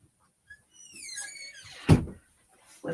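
A house door is opened to let a dog in, giving a creaking, whining sweep followed by a solid thump of the door. A short whine sounds before it.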